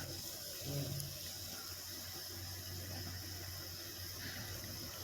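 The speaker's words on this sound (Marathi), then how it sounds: "उकळी आवाज येते का तुम्हाला बघा" Crab curry bubbling in a pot on the boil, a faint, steady watery simmer with low rumbling underneath and no talk.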